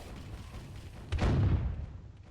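A ship's cannon fires in a boat battle video game, a single muffled boom with a low rumbling tail fading over about a second.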